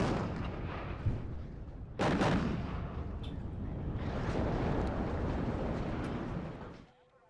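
Heavy artillery fire in the war strategy game WARNO: a booming salvo strikes around the two-second mark, followed by sustained rumbling explosions and distant blasts that fade out near the end.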